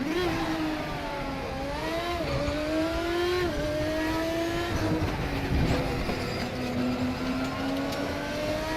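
A race car engine in RaceRoom Racing Experience roars continuously, its pitch rising and dipping through gear changes as it accelerates and brakes.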